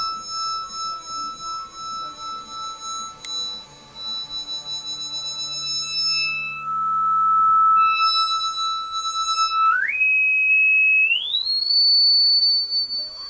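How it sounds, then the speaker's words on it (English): An electronic FM synth tone from a WSynth FM Operator W-104 with added feedback, rich in bright overtones, shifts its timbre as its spectrum spreads, then steps upward in pitch twice, each jump sharp and sustained. "let's add some feedback. Notice how the spectrum moves out."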